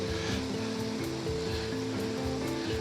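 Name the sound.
waterfall on the Fairy Pools, Isle of Skye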